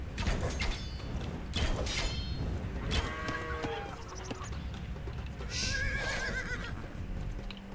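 Horses in the Age of Empires Definitive Edition video game neigh and whinny several times over a busy battle soundscape with clip-clopping hooves, shouts and clashing noise.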